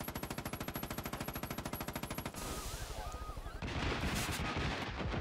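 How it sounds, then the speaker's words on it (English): Rapid automatic gunfire in Far Cry 5, a steady machine-gun rattle for about two seconds, then mixed shots, impacts and explosive bursts with game sounds; a voice is faintly present. "I'm gonna shoot at them really quick."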